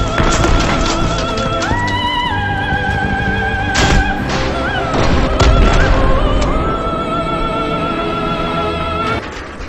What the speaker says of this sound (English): I hit him with an RPG